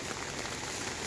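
Rain falls over a village as a dense, even hiss of drops on surfaces, steady and unbroken throughout.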